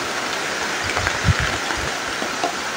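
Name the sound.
heavy rain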